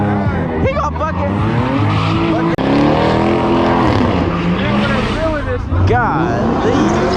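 A car accelerates hard at a street pit, engine roaring loud and close with tires skidding and squealing, while people shout and talk over the noise throughout.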